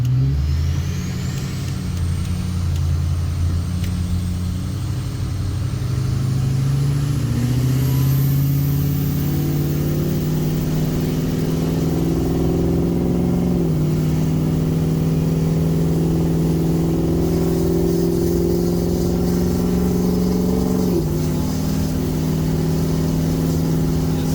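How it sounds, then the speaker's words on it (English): Turbocharged car with an aftermarket intake accelerating onto a 35 mph road out of a neighborhood: the engine hums, then climbs through rising revs in several pulls with brief dips at each gear change, heard steadily from inside the car with a faint high turbo whine. "we're approaching our first acceleration onto this 35-mile-an-hour road out of my neighborhood"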